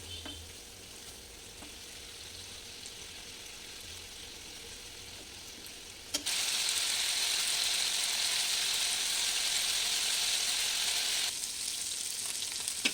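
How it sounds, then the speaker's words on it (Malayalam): Sardines fry in a pan for a Kerala-style dish, giving a steady hiss that swells louder halfway through as fresh sizzling starts, with no talk. "അപ്പോൾ ഇനി നമുക്ക് മീൻ വറക്കാൻ തുടങ്ങാം"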